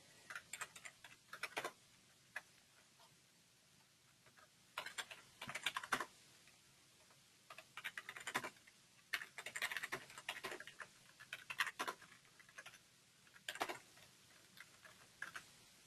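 Typing on a computer keyboard, with irregular bursts of quick, light key clicks separated by short pauses. The tapping sounds close but quiet, with no talking.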